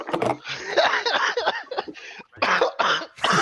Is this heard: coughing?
yes